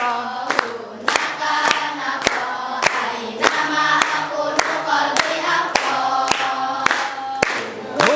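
A classroom group claps hands in a steady, evenly spaced beat while counting aloud, sharp claps ringing out one after another over a background of voices.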